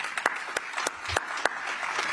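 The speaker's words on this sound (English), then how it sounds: "Like they're being forced to clap." Scattered, sparse claps from an audience applauding Benjamin Netanyahu: a handful of distinct hand claps at uneven intervals, moderately close, with little sustained crowd noise behind them.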